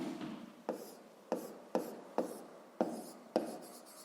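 Chalk or pen writes out a sixth-grade math solution in a series of sharp tapping strokes followed by brief scratching, about seven quick marks in an irregular rhythm, close and faint.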